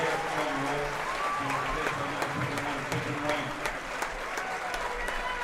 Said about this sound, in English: And the crowd rise to their feet for James Holmes.